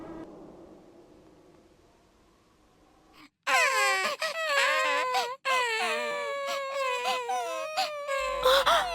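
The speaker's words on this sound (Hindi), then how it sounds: "मुझे अंदर से बच्चों के रोने की आवाज सुनाई दे रही है।" After a quiet, dim opening, several children burst into loud, wavering wails and sobs that rise and fall together, close and continuous in an animated action scene.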